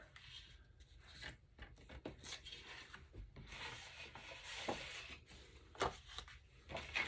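Paper trimmed on a Creative Memories custom cutting system for scrapbook hearts, giving a quiet, continuous rubbing and scraping of the blade across the sheet in soft repeated strokes, faint and close.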